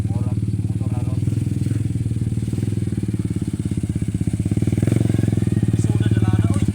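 A motorcycle engine drones steadily and close up while riding through a forest trail, a continuous throbbing rumble that swells slightly toward the end, with people talking over it.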